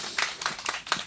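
A crowd at a candlelight rally claps briefly, a short burst of dense, slightly uneven applause lasting about a second, with no talk over it.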